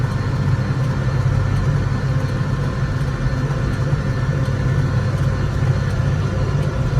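A Landini 5-120rs tractor engine runs at speed on the road, a loud, steady low drone with constant mechanical hum, close and unbroken throughout.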